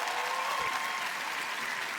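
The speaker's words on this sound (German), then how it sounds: "Einmal Applaus" A crowd applauds a prize winner at an event, a dense, steady wash of clapping that stays loud throughout.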